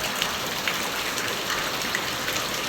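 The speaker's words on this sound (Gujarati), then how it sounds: "જુઓ વરસાદ" Heavy rain pours down in Gujarat, a dense, constant hiss with occasional sharper drop splatters standing out now and then.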